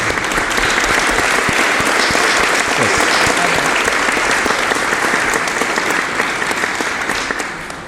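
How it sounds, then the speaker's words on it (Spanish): A conference audience applauds a political analyst introduced as the speaker: loud, dense, sustained clapping from a large crowd that fades slightly near the end, with no voices over it. "Por favor, un fuerte aplauso para el analista político Miguel Salinas de Chávez."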